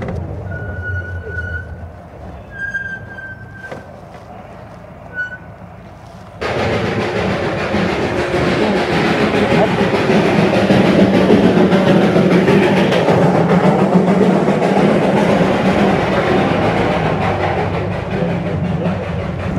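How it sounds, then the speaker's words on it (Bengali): Darjeeling toy train passing near the station, a sustained broad rumble and rattle that swells in suddenly after quieter traffic with brief horn tones, staying loud and steady to the end. "তো এটা ছিল টয় ট্রেন"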